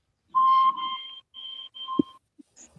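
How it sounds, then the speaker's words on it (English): Edward's low-pitched steam engine whistle from Thomas and Friends blows alone in several tonal blasts, a long opening note followed by shorter repeated toots, with a faint thump and small clicks near the end. "you can hear his low-pitched whistle sound since season 4"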